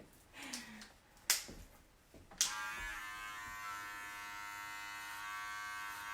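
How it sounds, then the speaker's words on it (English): Electric hair clippers cutting hair start with a few sharp clicks and taps, then switch on into a steady close buzzing drone that holds to the end, with no talking. "I'm going into a slightly shorter clipper blade now"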